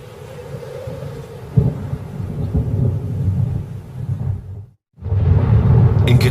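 A thunderstorm breaks over Katavi with rain, a loud rolling rumble with a sharp crack partway through, then a sudden brief silence before the heavy roar returns.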